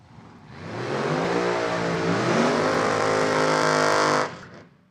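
Top Dragster drag racing cars, one a supercharged machine, launch down the strip with a loud, harsh engine roar that swells quickly, holds for several seconds and then cuts off abruptly.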